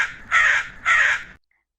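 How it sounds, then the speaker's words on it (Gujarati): A crow gives two loud, harsh caws in close succession, each a drawn-out rasping call, followed by silence, set in a children's story. "કા કા કા કરતા કાગડાભાઈ ઉડી ગયા"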